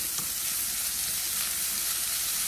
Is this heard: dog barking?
no